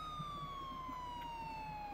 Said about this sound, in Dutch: Sirene heeft hij.